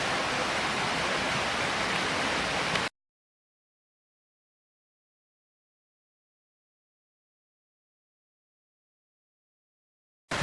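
Pam Bok Waterfall in Thailand, a dense, steady roar of falling water heard close for about three seconds before the sound cuts out completely.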